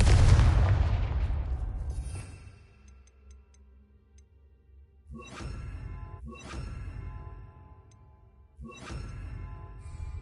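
A Confringo spell blast in Hogwarts Legacy opens with a loud, booming burst that decays over a couple of seconds, followed by three fainter repeated impacts with ringing tails.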